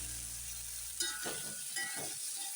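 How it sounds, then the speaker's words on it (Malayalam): Onion, ginger garlic paste, tomato and green chilli frying in a pan for kadai paneer, a soft steady sizzle that picks up with stirring partway through, quiet and close. "അതിലേക്ക് നമുക്ക് ഇഞ്ചി വെളുത്തുള്ളി പേസ്റ്റ്, തക്കാളി, പച്ചമുളക് ഇത്രയും ചേർത്ത് കൊടുത്ത് ഒന്ന് വേവിച്ചെടുക്കാം."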